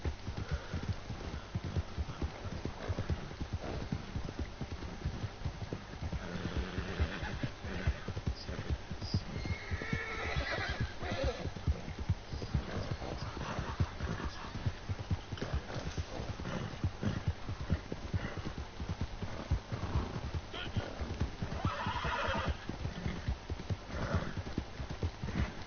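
Horse hooves clip-clop steadily with occasional neighs while riding in Red Dead Redemption 2, a game horse carrying a bear pelt, the footfalls continuous and fairly loud over a low hum throughout.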